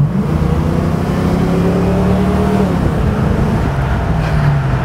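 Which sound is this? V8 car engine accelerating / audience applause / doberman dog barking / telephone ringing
V8 car engine accelerating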